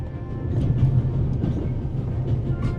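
A train runs along its rails in the video game The Raven, a steady low rumble with a faint rhythmic clatter that continues evenly throughout, with no talking.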